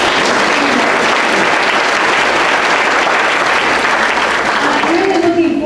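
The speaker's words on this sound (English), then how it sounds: "So I want to give a round of applause to them for giving me." Audience applause for the staff at an open member meeting, a steady, dense round of clapping that fills the room for several seconds, with a voice rising over it near the end.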